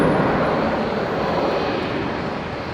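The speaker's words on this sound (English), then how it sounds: "Which will be operating back to Darwin, the Air North Embraer." Air North Embraer jet aircraft at Brisbane International Airport, a loud steady engine roar that slowly fades, heard alone.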